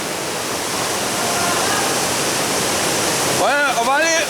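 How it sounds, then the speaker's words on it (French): An underground river swollen by tributaries roars through a cave a hundred metres down, a loud, steady rush filling the whole stretch, with a voice breaking in near the end. "L'équipe de Bernard évolue à 100 mètres de profondeur, suivant une rivière grossie d'affluents."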